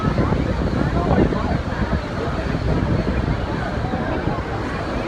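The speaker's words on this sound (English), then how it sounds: "it just got cold, so windy" Strong wind roars and buffets against the microphone on the Maid of the Mist boat at Niagara Falls, a constant rumbling gust with splashing waves beneath it.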